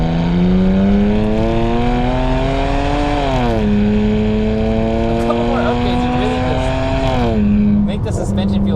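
A BMW with an N52 straight-six engine drives along, its steady harmonic drone rising through the revs, dipping at a shift and climbing again, loud and close from inside the car.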